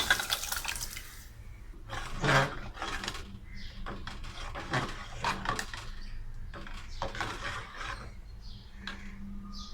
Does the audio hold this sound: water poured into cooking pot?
yes